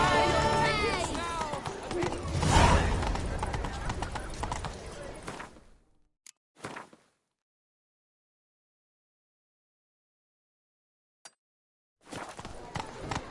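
Roach the horse galloping in The Witcher 3: Blood and Wine, rapid hoofbeats mixed with game sounds and voices for about five seconds before cutting to near silence, with a brief return at the end.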